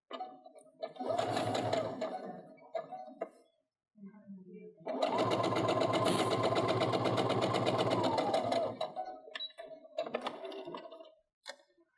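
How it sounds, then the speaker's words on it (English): A sewing machine stitches quilt rows together for a 60-degree quilt design, running in a short burst and then a longer steady run of about four seconds. It sounds close and loud, with light handling clicks between the runs. "I'm actually going to sew both of these rows together real quick."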